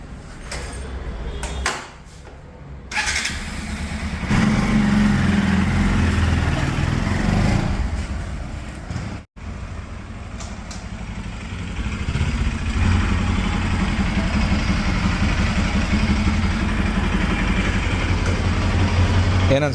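A Bajaj NS200 BS4 motorcycle, just back from a test ride after a full service, idles with a steady, low engine hum. A voice can be heard briefly over it.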